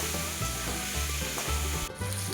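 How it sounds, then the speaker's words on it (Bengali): Potatoes and chopped tomatoes fry in a pan with turmeric, a loud continuous sizzle broken by the scrape of stirring. "আবারও কিছুটা ভাজা ভাজা করে টমেটো কুচিগুলো দিয়ে দিল।"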